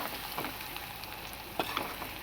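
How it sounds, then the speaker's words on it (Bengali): Onions frying in a pan until reddish-brown, a steady soft sizzle running through the whole stretch with a couple of brief stirring clinks near the end, no voices. "পেঁয়াজগুলোকে আমি লাল লাল করে ভেজে নেব"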